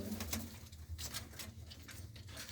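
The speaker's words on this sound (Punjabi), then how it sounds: "ਆਹ ਕਬੂਤਰ ਆ ਬਈ ਸ਼ਾਹ ਅੱਖਾ ਕਬੂਤਰ ਆਏ" A prize-winning Shah akha racing pigeon coos in soft low, continuous rolls, close by and alone with no talk.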